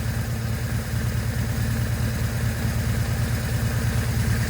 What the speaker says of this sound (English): You can see our RPMs start creeping up.